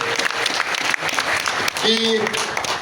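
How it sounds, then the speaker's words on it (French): Crowd at a gathering on the agricultural season in the DR Congo breaking into loud applause, dense continuous clapping with a voice calling out over it, close and full. "Je veux que vous puissiez l'applaudir."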